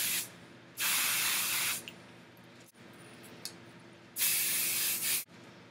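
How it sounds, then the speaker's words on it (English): Suave dry conditioner sprays onto hair mid-shaft to ends from a few inches away in two distinct bursts, each a close, loud hiss lasting about a second, with quiet in between. "So that was my first time trying out the Suave dry shampoo and dry conditioner."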